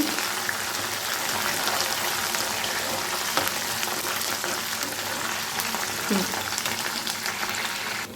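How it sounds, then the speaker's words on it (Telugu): Dried red chillies and curry leaves frying in hot oil while being stirred for a grated mango pickle, a steady crackling sizzle with occasional scrapes, no speech. "ఇప్పుడు ఎండుమిర్చిని, కరివేపాకు కూడా వేసుకుందాం. బాగా కలుపుకుందామండి."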